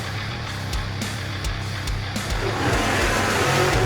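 Diecast toy monster trucks roll down a hilly race track in a racing series, a steady rolling rumble with scattered clicks and rattles that builds slightly toward the end, under faint background noise.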